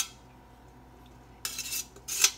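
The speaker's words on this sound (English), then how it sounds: "I hate to hear that scraping of the pots" A utensil scrapes the last of a ground turkey casserole out of a cooking pot in two short, close, gritty bursts, with no one talking.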